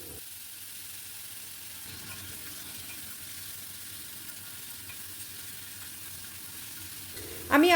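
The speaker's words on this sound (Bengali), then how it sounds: "অল্প নাড়াচাড়া করে দিয়ে দিলাম কেটে রাখা পুরো টমেটোটাই।" Chopped tomato frying with whole spices (cloves, cardamom and cinnamon) in oil, a steady low sizzle throughout, ending with a brief louder clatter.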